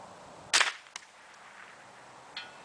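A single sharp crack from a Ruger 10/22 firing .22 LR at a distant bullet trap, followed by a faint second tap and a soft later click, heard alone against quiet outdoor background.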